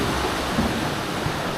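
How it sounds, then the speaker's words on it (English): Heavy rain falling during moose hunting season in Alaska, a steady hissing downpour with a low rumbling undertone, even and continuous through the short stretch. "It'll rain like this until it freezes around here."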